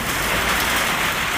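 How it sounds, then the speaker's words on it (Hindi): Heavy rain during a storm in Dadyal, Azad Kashmir, a dense continuous roar of rainfall, loud and close, with no voices. "इतनी बारिश है बाहर ये देखो जी बारिश"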